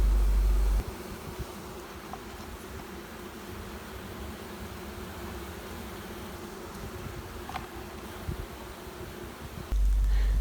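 Honeybee colony in a Mini Plus hive during queen rearing, a steady dense buzzing hum that fills the whole stretch at moderate level, with no talking.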